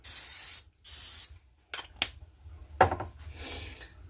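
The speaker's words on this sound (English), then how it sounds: "I'm going to add a little bit more cooking spray so it doesn't stick to the top" Two sharp bursts of hissing spray from a cooking spray can onto a waffle maker, followed by soft clicks, taps and rustling nearby.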